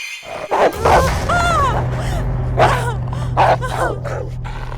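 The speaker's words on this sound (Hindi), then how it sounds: "कुत्ता, इस घर में कुत्ते भी हैं।" Dog barking in a Hindi horror drama episode set in a haunted house, several bursts over a steady low hum, close and fairly loud, with a gasp-like voice between the barks.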